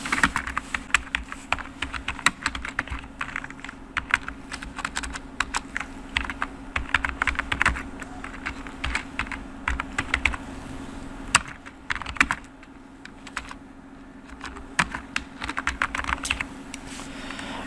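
Rapid clicking of a computer keyboard as a channel name is typed, with irregular bursts of keystrokes and short pauses, close and clear with no speech.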